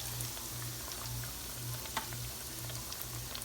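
Zucchini slices fry in hot oil, giving a steady, soft sizzle with faint crackling pops and a low hum underneath, quiet and close.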